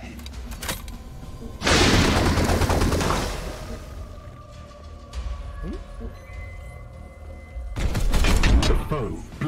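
Bursts of rapid gunfire from Warhammer 40,000: Chaos Gate – Daemonhunters crackle in two loud volleys separated by quieter moments with distant shots and faint electronic tones.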